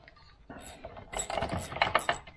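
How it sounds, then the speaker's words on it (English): A wrench undoes a bolt on the engine adjuster of a Citroën 2CV during an engine swap, giving a faint scrape followed by a series of close metallic clicks and clinks. "I'll just undo the adjuster before I... remove that bolt completely."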